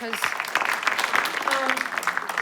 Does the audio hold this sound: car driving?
no